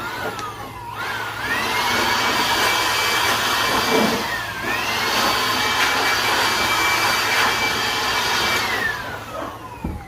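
A high-pitched air blower whines steadily for several seconds while blowing dust inside a camper van, its pitch dipping briefly as it starts and then again partway through, fading at the end.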